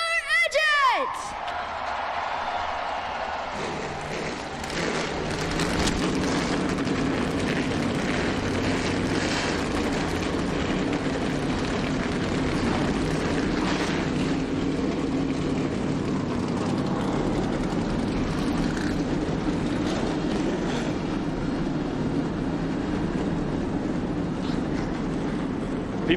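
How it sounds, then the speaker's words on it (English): NASCAR race cars at the 2011 FedEx 400 fire up together: a sudden loud roar after a brief announcer call, then a sustained dense rumble of many engines revving under crowd and announcer noise. "Gentlemen, start your engines!"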